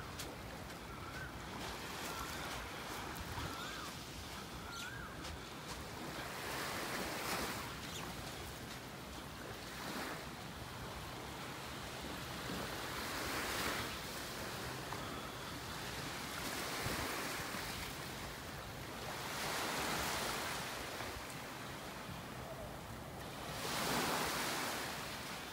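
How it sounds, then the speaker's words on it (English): Ocean waves at Pattaya beach, Thailand, wash ashore in slow, rolling surges that swell and fade every few seconds over a constant hiss of surf, moderately near and with no voices. "It is the waves not that much as before."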